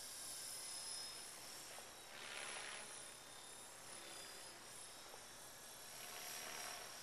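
An EXI 450 RC helicopter flies aerobatics at a low 2300 RPM in idle up, its steady high rotor and motor whine holding at mid distance with swells as it flips.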